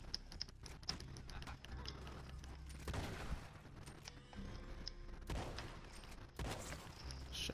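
Gunshots in the video game Red Dead Redemption 2, with several faint, sharp reports scattered over a low rumbling game background.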